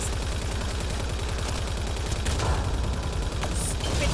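Rapid automatic gunfire from combat in the sci-fi shooter Mass Effect Andromeda, a dense, fast, regular stream of shots with a few sharper impacts and bursts layered on top, loud and close with no talking.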